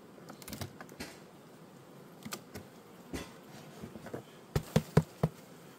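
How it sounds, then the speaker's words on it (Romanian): Honey bees buzzing around an open hive, a faint, close hum with scattered buzzing passes of individual bees and a few sharp knocks near the end. "Vedeți, albina stă împrăștiată."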